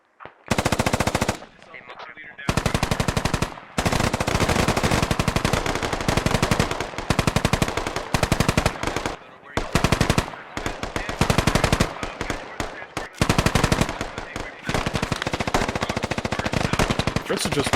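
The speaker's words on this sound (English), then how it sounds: "Fritz is just blindly firing at this point." Video game gunfire in a one-life tactical shooter event, with long loud bursts of rapid automatic fire broken by brief pauses and faint voices in between.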